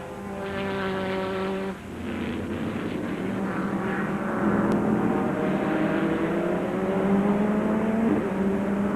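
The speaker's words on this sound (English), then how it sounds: "That's Butch cleanly onto the back straight now, so his tires should be getting up to temperature at this point" Race car engines howling around Road Atlanta during the 2005 Grand Prix, a loud sustained roar with a car accelerating down the back straight, pitch climbing through gears, with a crowd of engines blending in the distance.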